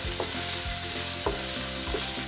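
Onion sautéing in a pan for soya chunk cutlets, a loud continuous sizzle with a few stirring scrapes and utensil knocks, close up.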